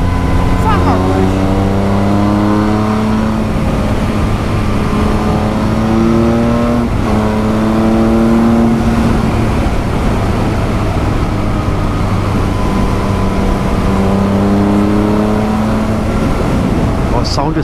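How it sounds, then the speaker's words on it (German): A Triumph Speed Triple RS three-cylinder motorcycle pulls hard while riding, its engine note climbing through repeated rising gear sweeps, loud and continuous throughout. "Jetzt kann ich auch die Jungs und Mädels verstehen, die auf diesen Dreizylinder-Sound abfahren."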